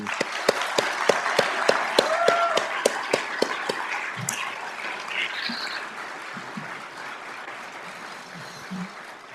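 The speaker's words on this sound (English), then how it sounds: "If we could have a round of applause for all these folks." Audience applause at a police academy graduation, swearing-in and promotion ceremony in Fargo, with sharp individual claps standing out at first before the clapping thins and fades into murmuring room noise.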